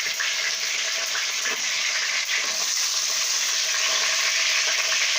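Whole spices (bay leaves, black peppercorns, cardamom and cinnamon) and chicken fry in hot oil in a pan for chicken biryani. The sizzle is loud, steady and close, with no talk over it.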